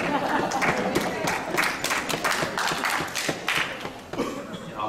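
Applause from an audience at a public meeting, a dense patter of many hands clapping steadily for about five seconds, fairly loud and close, with a murmur of voices mixed in.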